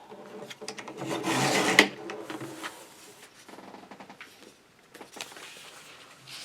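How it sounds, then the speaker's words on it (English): Small piece of wood for a model being cut by hand in short rasping strokes, a loud burst early on followed by quieter intermittent scraping, close and without talk. "I got to cut another 1/8 inch or so off."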